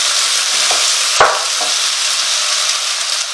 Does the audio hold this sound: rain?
no